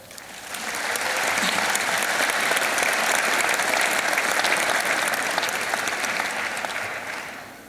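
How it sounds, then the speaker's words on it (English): Students at a university graduation ceremony in a large hall give sustained applause that swells in, holds loud and dense for several seconds, then fades. "I think you all deserve a round of applause from the students"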